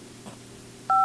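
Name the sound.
telephone number being dialed, dial tones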